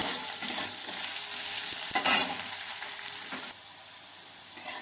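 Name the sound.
bitter gourd frying in oil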